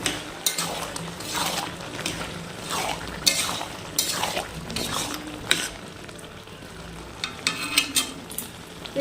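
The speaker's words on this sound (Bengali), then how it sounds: "এখন এই ডাল ঘুটনিটা দিয়ে এটা ম্যাশ করে নিব পুরো বেগুনটা" Cooked eggplant mashed in a pan with a wooden dal masher gives repeated dull thumps and metallic scrapes in an uneven rhythm over a soft, continuous sizzle.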